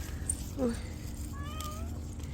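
A cat meows briefly in a small backyard vegetable garden, two short cries close by over steady outdoor background noise.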